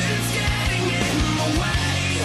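Rock music: a short, dense stretch of distorted guitars with driving drums and bass at full band loudness, with no talking.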